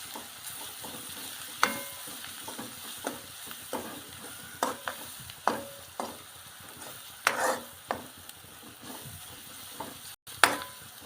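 Turmeric and salt stirred in a pan for a sweetcorn snack, a low frying hiss broken by irregular spatula scrapes and sharp clinks on the metal, no voices.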